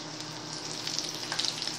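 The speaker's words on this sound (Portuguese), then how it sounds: "fritando." Breaded chicken drumettes fry in a large pan, giving a steady close sizzle with crackling spits growing brighter toward the end, no talk.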